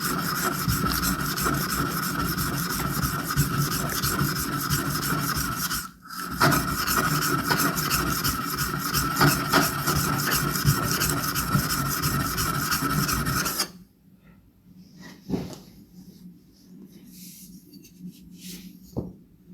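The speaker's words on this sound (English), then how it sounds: "We proceed the same way with the planer plate, applying a lot of pressure to grind the mirror side." The flat mirror side of a plane iron ground under heavy pressure on a sharpening stone, a loud continuous gritty rasping scrape with one brief pause, then falling to quieter intermittent scrapes near the end.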